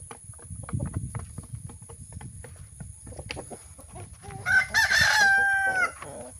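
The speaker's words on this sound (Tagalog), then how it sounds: "Iingay na nila." Chickens cluck steadily through a small backyard coop of egg-laying hens, then a rooster crows loudly and close by near the end, with no one speaking.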